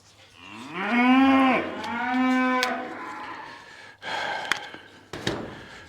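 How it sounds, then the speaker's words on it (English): Two long, loud cow moos with a rising then falling tone, followed by rustling and a couple of sharp knocks close by. "Do your cows make this much blimmin' noise."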